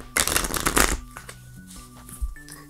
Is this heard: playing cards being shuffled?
yes